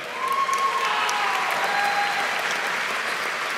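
Sustained applause from a large graduation audience at a high school commencement, many hands clapping in a thick, continuous roar that swells in and holds steady, with a faint thin tone briefly audible beneath.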